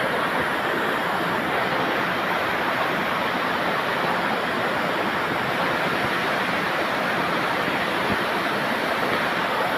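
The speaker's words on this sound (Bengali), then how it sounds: "এখানে সাউন্ডই আলাদা ঝর্ণাটা।" The Dharagiri waterfall in the forest near Ghatsila sends up a steady, dense roar of rushing water. It holds loud and unbroken for the whole stretch, with no voices over it.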